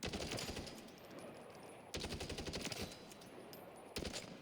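Automatic rifle with a 20-round magazine in Call of Duty MW3, fired in three sustained full-auto bursts of rapid, loud, close-up gunfire, each burst roughly two seconds long with no pause in between.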